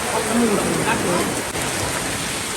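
Steady, dense rain pours down, filling the air with a constant loud hiss that stays even from start to finish.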